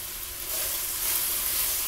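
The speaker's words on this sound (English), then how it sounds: "I'm going to brown it on medium heat" Beef pieces browning in olive oil in a skillet over medium heat, giving a steady close sizzling hiss that grows slightly louder partway through and carries on without talk.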